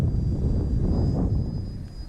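An E-flite Habu RC electric ducted-fan jet on a 4S lipo passes by on a hot Florida fall day, a steady broad whooshing roar that swells slightly near the middle and eases off, alone with no talk.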